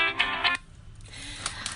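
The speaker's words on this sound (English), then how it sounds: "Of course, his phone's ringing." A phone rings nearby with a short electronic melody of bright repeated tones, fairly loud at first and then fading into quieter pulses.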